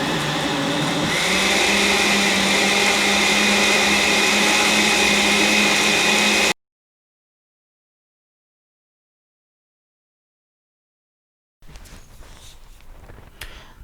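A blender whirs steadily while making watermelon juice, loud and continuous for about six seconds before cutting out; after a silent gap, a quieter burst of kitchen noise returns.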